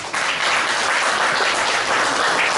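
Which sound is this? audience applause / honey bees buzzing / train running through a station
audience applause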